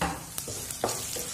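Chana dal and urad dal fry in ghee with mustard seeds and cumin for a tempering, giving a steady close sizzle broken by a few short stirring scrapes.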